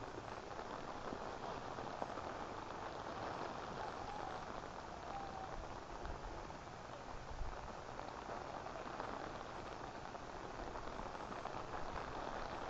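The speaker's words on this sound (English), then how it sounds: "It is raining and it is so cold." Steady rain falling in a cold highland area of Tanzania near a cow enclosure, a dense even hiss of drops on surfaces, constant and fairly quiet with no voices.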